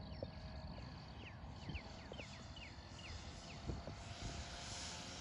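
Engine drone of a 100-inch radio-controlled Cessna Bird Dog model plane on 6-inch tundra tires, a steady buzzing hum with rising and falling pitch as it flies past trees, heard alone.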